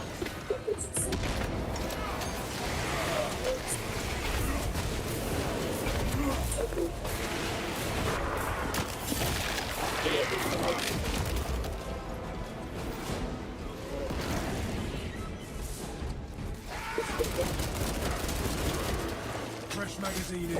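Gunfire and grenade blasts from a video game rumble in a dense, continuous barrage of cracks and booms, with a voice talking over the action.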